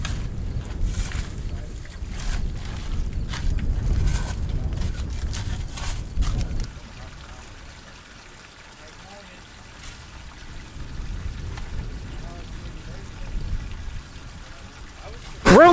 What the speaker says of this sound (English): we are pumping some muddy water out